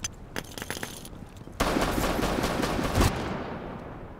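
Gunfire from a cheating player in a video game: a few scattered pops, then a sudden dense, loud rattle of rapid shots that carries on and fades toward the end, with no talking.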